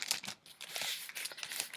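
Crinkly paper packaging being handled, a short burst of close, bright rustling and crackling with brief pauses, no voices.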